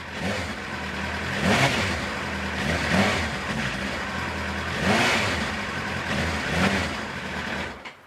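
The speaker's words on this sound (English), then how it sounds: "Let's give her a few little revs." A Kawasaki ZX-9R track bike engine idles and is revved several times in short, moderate bursts, fairly quiet and steady between the revs.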